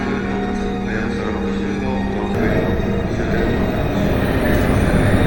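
Rumbling train noise builds as a Hayabusa Shinkansen carriage departs Shin-Aomori Station, with a steady hum that cuts off partway and rail clatter continuing underneath.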